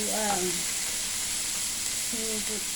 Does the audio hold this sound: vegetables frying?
yes